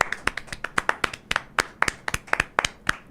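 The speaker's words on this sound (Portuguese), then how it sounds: "Eu quero pedir uma salva de palmas pra ele aqui." A small group gives a round of applause in a live-streamed talk show, with sparse, distinct hand claps in an uneven rhythm, close and fairly clear.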